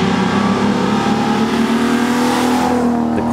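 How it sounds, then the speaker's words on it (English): A Ferrari 250 GT Lusso engine revs loud and close, holding a strong, steady wail with a slight dip in pitch near the end, heard alone. "This car loves to be revved up."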